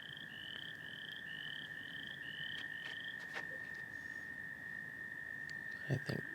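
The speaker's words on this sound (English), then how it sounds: "so the fans can hear all the frogs that have gathered in this pond" Frogs croak in a pond beside a disc golf tee pad during a tournament round, giving a quiet, evenly spaced series of chirping calls over a steady outdoor hum, with a few soft thuds near the end.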